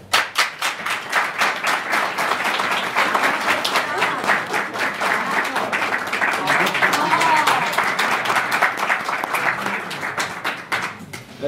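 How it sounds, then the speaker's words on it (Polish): Audience applause at a lecture-style meeting in a hall, a full room clapping steadily and loudly for about eleven seconds without letting up. "Brawa!"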